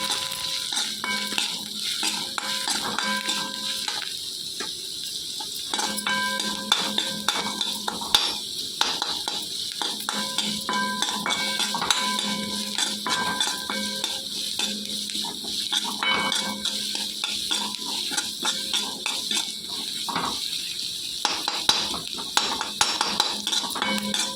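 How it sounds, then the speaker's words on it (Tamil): Onions sauté in a pan with tomato paste and green chili. A spatula scrapes and clinks against the metal in steady, repeated strokes over a constant light sizzle, close and fairly loud. "பாருங்கள், வதக்கிறேன். வெங்காயம் நல்லா வதங்கட்டும்."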